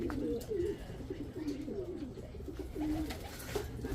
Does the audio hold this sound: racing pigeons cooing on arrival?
yes